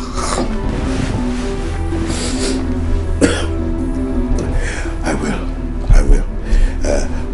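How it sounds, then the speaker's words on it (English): Several harsh coughs break out at intervals over a low, rumbling background, a few close together near the end. "you need to do something about this cough"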